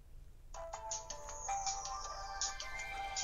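A mobile phone's startup chime plays as the handset is switched back on: a bright, multi-note electronic melody rises clearly over quiet room hiss and rings on for several seconds.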